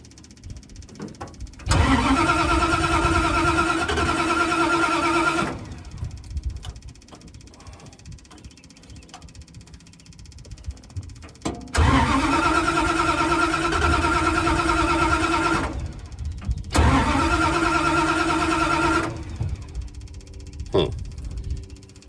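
An old engine, running on stale gas, is cranked three times, each a several-second burst of steady starter churning that never catches, separated by quiet gaps with faint background noise.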